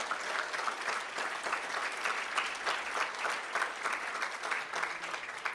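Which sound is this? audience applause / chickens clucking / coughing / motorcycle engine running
audience applause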